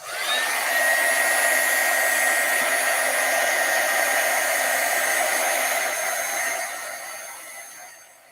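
A heat tool blows a steady, loud whoosh of hot air to dry a stamped card, running continuously for several seconds before fading as it switches off.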